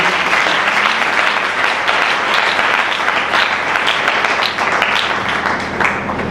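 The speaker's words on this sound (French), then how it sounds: "Acclamons Jésus." Congregation in a church applauding Jesus, steady dense clapping from a crowd that fills the room at an even, sustained loudness throughout.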